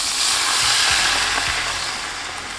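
Loud, steady sizzling of butter with beef and chicken stock in a pan over low-medium heat, a constant frying hiss with a few faint clinks, no voices.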